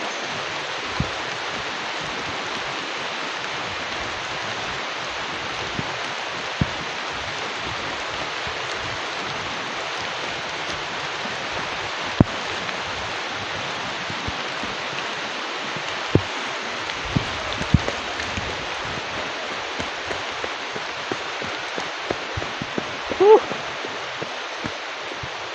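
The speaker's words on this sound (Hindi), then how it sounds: "बारिश ने हमारा व्लॉग्स खराब कर दिया।" Steady rain pours at a waterfall site in the dark, a dense, even hiss throughout with occasional closer drips and patters, and faint voices buried underneath.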